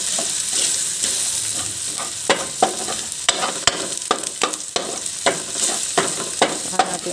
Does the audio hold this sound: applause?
no